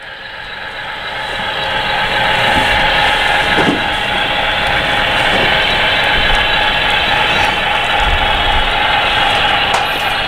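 A steady, loud whine and rumble of turbochargers from a Mexican national railways model diesel locomotive, a continuous mechanical drone with faint clicks, no talking.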